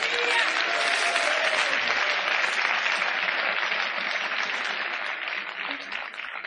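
A church congregation at a sermon breaks into loud, continuous applause, a dense wash of clapping that holds steady across the whole span and tapers only slightly at the end.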